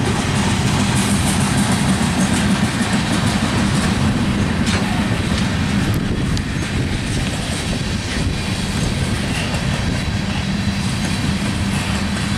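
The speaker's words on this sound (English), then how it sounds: "That's a garbage train." A garbage train rumbles steadily past on the rails, loud and close, with continuous wheel and car noise throughout.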